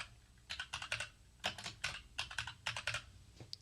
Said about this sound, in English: Just type in Husky House.